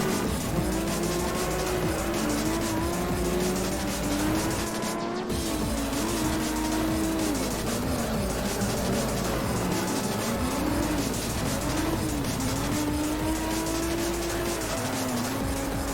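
A Subaru Impreza race car in the racing video game Juiced, its engine droning and shifting pitch continuously at close range, with tire squeal mixed in and no talk.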